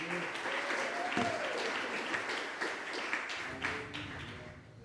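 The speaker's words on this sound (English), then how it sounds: "Big applause." Audience applause fills the hall as a speaker comes onto the stage at a tech talk event in Rome, a steady wash of clapping at moderate level with a few sharper taps and some faint voices mixed in.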